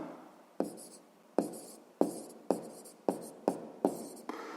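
A pen writes on paper during a sixth-grade math exercise, giving eight crisp separate scratching strokes in an uneven rhythm, close and clear, with no talk.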